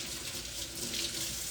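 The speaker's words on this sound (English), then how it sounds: "I'm gonna wash my hands first" Hands being washed under a running kitchen tap during soup preparation: a steady, close rush of water pours without a break for the whole moment.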